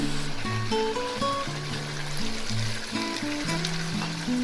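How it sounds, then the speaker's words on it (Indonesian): Hot oil bubbles and sizzles steadily in a pan while sambal is being made, a close, continuous crackle over background music with sustained tones. "oke, ini sudah mulai mendidih minyaknya."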